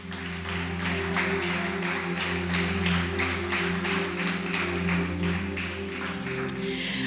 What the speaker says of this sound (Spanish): Denle un aplauso al Señor mejor